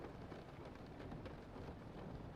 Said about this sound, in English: Oh, it's raining cats and dogs here.